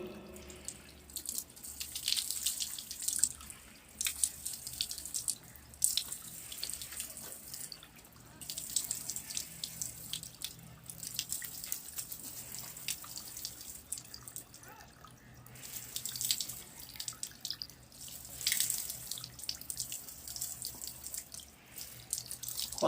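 Water runs steadily from a tap during ablution, a continuous splashing stream with small fluctuations as hands wash face and beard, heard fairly close.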